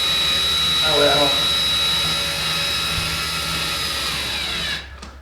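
A power drill whirs continuously while driving a screw into an electrical outlet in a shed being converted to a studio, loud and close, the motor pitch shifting slightly before winding down at the end.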